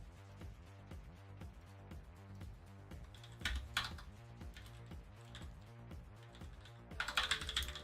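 Steady, rhythmic typing on a computer keyboard, close and clear, with evenly spaced key clicks and a few faster bursts of keystrokes, no voice over it.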